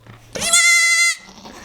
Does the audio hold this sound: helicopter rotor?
no